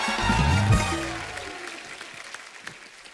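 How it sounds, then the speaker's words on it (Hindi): A studio audience on The Kapil Sharma Show claps as guests arrive, the applause rising with a brief musical sting at first, then thinning and fading to scattered claps. "जोरदार तालियां।"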